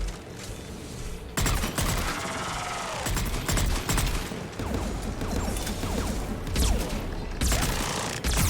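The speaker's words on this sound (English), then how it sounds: "Stop shooting Tally!" Rapid gunfire in Mass Effect 3 combat, bursts of automatic shots with sharp cracks and impacts coming in clusters, loud and close, separated by brief pauses.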